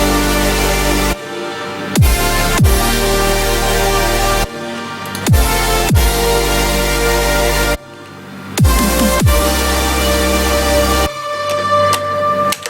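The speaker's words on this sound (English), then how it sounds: "I made some chords for the intro, which sound like this." Sustained synthesizer chords with a deep bass underneath, changing every couple of seconds, with sweeping transitions between them; loud and full, no voices.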